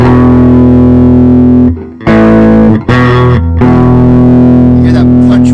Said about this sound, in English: hear that punch with the double stops there through the speaker.